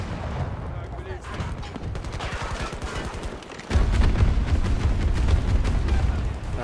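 Battlefield 2042 Breakthrough combat rumbles with dense gunfire and heavy booming explosions, rapid bursts of shots rattling before a loud blast swells into sustained roaring, with a voice speaking over the chaos.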